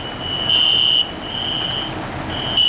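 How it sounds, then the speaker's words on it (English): A fire alarm sounds in pulses, a loud, steady electronic tone that switches on and off in long bursts over a constant background hum. "This is the first time I've ever seen a fire alarm go off in real life."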